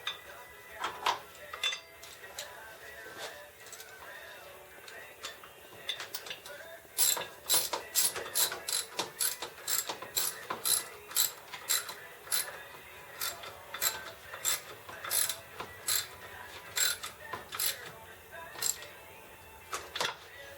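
A socket ratchet tightens an alternator bolt on a 1988 Ford Mustang GT in a garage, sharp metallic clicks in quick repeated bursts, close and alone, pausing between runs.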